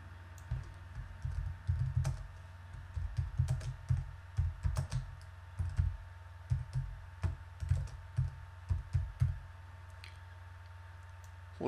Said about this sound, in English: You can type in whatever you wish this to be here.